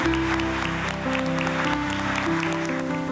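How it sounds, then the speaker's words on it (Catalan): An audience gives warm applause to open a children's book award ceremony, steady clapping blended with a sustained musical tone underneath throughout. "us donarem un fort aplaudiment"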